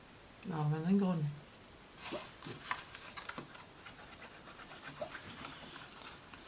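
A dog named Maïko growls and pants softly in its sleep while dreaming, a low rumbling vocal burst up close followed by faint breathing, with someone speaking gently nearby.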